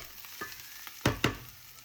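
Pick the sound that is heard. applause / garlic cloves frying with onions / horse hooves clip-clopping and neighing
garlic cloves frying with onions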